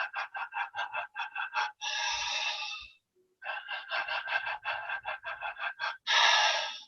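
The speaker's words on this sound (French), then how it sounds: "si tu joues sur la texture de ta respiration, donc une respiration qui est entrecoupée" Choppy, broken breathing comes in rapid short puffs, two runs of quick bursts each broken by a longer, fuller breath, close and without speech.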